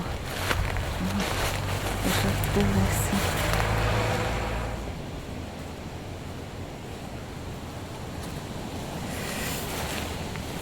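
Cold autumn wind blows outdoors in a steady broadband rush, louder for the first few seconds and then settling into a softer continuous roar that picks up again toward the end.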